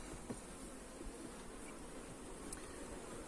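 Honey bees swarm around an open hive during a frame inspection, their steady, dense buzzing filling the clip at a low, even level with occasional faint clicks of handling.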